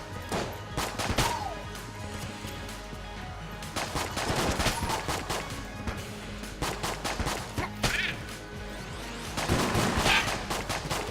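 Rapid bursts of gunfire from a gun in the video game Enter the Gungeon crackle continuously, with dense volleys of shots and occasional sharper impact cracks layered over game effects.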